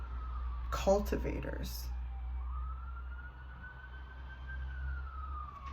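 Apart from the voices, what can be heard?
emergency vehicle siren in the background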